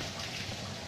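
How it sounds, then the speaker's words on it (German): Steady hiss of a running shower in the horror game Outlast, a continuous broadband spray of water with no breaks. "Ah, eine Dusche."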